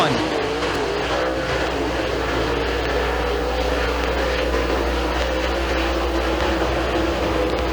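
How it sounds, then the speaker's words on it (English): Race cars lap a speedway oval during heat races at Thunder Mountain Speedway, a steady broad engine roar droning without a break, with faint background murmur mixed in. "Excellent start for the Z-Man, Mason Ziegler, as he heads down the backstretch into turn 3"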